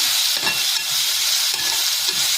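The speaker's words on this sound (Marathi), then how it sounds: "आपल्याला ह्या तेलावरती परतायचं आहे." Potato pieces sauté in oil for batata kacharey, a steady sizzle broken by a few stirring scrapes, close and moderately loud.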